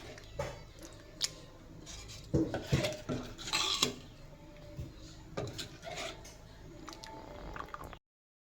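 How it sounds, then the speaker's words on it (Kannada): Ragi ambali stirred in a pot after a water rinse: scattered clinks and scrapes of a utensil against metal, with soft wet squishes, close and moderately quiet, ending in silence. "ಇದನ್ನು ಸ್ವಲ್ಪ ನೀರೆಲ್ಲ ಹಾಕಿ ತೊಳ್ಕೊಳ್ತೀನಿ ನೋಡಿ. ಇವಾಗ ಮಿಕ್ಸ್ ಮಾಡ್ಕೊಳ್ತೀನಿ."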